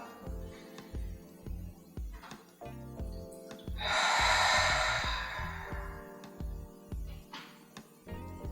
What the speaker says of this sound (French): Expirez la bouche ouverte en sentant que vous laissez aller toutes les tensions